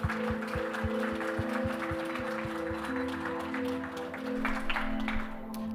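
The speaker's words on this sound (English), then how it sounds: "let's give a warm applause for Nicolas Gourault" An audience at an animation event applauds a speaker, a dense steady clapping at moderate distance over a low hum that thins out toward the end.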